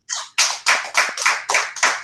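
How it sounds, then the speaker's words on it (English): Close, loud claps at a monthly meeting, about eight sharp hand claps in an even, fairly quick rhythm, each one distinct with brief gaps between them, sounding like a small group or a single nearby clapper. "Clap it up for Faith, everybody."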